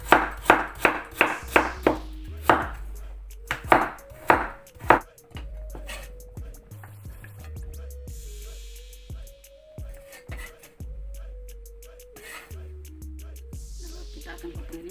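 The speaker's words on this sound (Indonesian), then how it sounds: "Kita akan potong ini ya pemirsa." A knife chops ingredients for fried rice on a cutting board, first a quick run of crisp, rhythmic thuds, then slower scattered chops under a faint steady hum.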